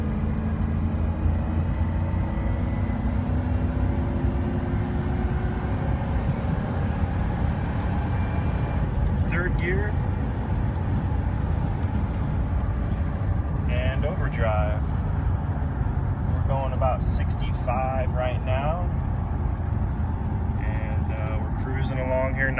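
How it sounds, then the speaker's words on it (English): A 1999 Dodge Roadtrek Popular 190 camper van pulls up to highway speed in second gear, its broad engine and road roar steady and loud throughout, with brief voices talking over it partway through. "we are accelerating, entering the highway speed"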